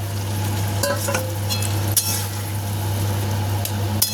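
Masala being sautéed with peas and slit green chilies in a pan, a steady loud sizzle with scraping stirs and a couple of sharp clanks of the spoon against the metal.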